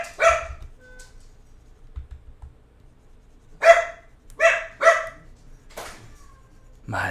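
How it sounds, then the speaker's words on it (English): A dog named in the setting as Duke barks loudly and close by in an indoor live-stream room, several sharp barks in quick bursts separated by pauses, with low rumbling background noise between them. "My dog is so loud."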